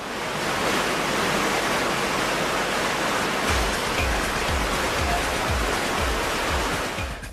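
Five 150-horsepower turbine engines pump roughly 850,000 gallons a minute into the huge chambers of a beach wave machine, producing a loud, steady roar of rushing water with deep low rumbling surges in the second half.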